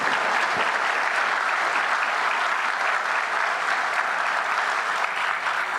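Sustained applause from a large audience at the swearing-in ceremony of Brazil's new Minister of Justice and Public Security, steady and dense, with clapping filling the whole stretch and no talk over it.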